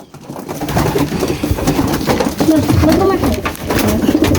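Racing pigeons cooing near a training box, a dense chorus of low throaty coos, close and continuous, with people talking over them.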